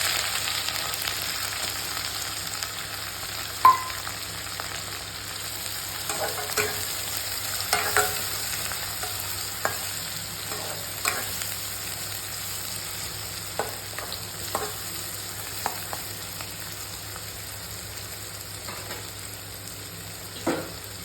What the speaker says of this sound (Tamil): இதில் வந்து நம்ம கட் பண்ணி வச்சுருக்க வெங்காயமும் கருவேப்பிலையும் ஆட் பண்ணணும்